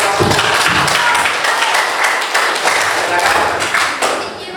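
Classroom applause after a group presentation, loud sustained clapping from a room full of people, close and continuous with a dense patter throughout.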